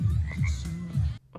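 Frog croaking in a film scene, with low, throaty pulses repeating steadily for about a second and then cutting off abruptly.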